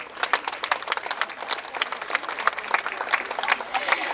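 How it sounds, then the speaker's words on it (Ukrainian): Crowd applause greets honored guests at an outdoor fair procession, steady dense clapping throughout, moderately distant and continuous with no pauses. "Шановні гості, привітайте, будь ласка, наших почесних гостей своїми оплесками."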